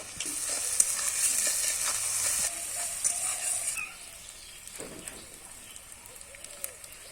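Garlic and chopped green chilies stir-fry in a pan with a bright sizzle that fades halfway through, followed by softer scraping and stirring sounds.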